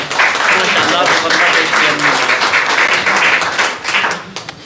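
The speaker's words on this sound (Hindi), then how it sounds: "तालियां होनी चाहिए इतने खूबसूरत अंदाज में" Audience applause at a poetry recital, a dense continuous clapping from a crowd that swells loud and tapers near the end, with voices mixed in underneath.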